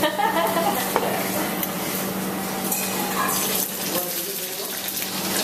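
Meat searing in a hot pan, with a loud, dense sizzle broken by scattered pops and crackles and some stirring noise, steady for the whole stretch.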